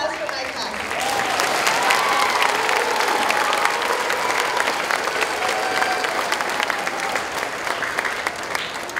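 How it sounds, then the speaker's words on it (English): Sustained applause from an audience at a fifth-grade completion ceremony, steady and fairly loud, filling the whole stretch with dense clapping. "a round of applause for my class"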